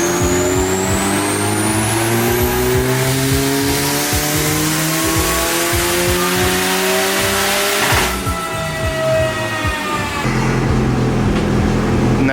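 A twin-turbo four-cylinder car running E85 with a distributor setup accelerates hard, its rising engine note climbing steadily and loudly, with a brief drop near eight seconds before it picks up again.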